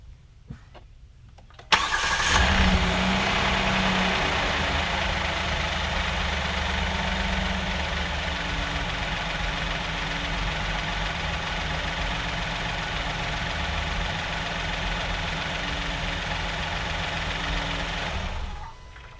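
A Kia Sorento engine starts after an oil change and then settles into a steady mid-pitched idle that runs close and even for most of the stretch.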